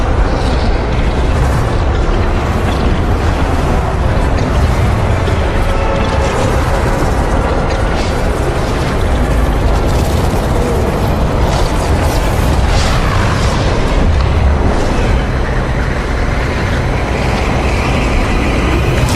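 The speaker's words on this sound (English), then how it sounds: "No black hole, an instant explosion across reality." A sustained, roaring blast of noise from a Fortnite end event rumbles continuously, dense and loud throughout, like a massive explosion with debris and rushing energy.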